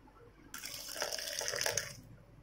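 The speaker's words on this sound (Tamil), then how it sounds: "காய்ச்சின பசும்பால் சேர்த்துக்கோங்க." Boiled cow's milk pours in a short, steady stream into a bowl, close up and fairly quiet, lasting about one and a half seconds.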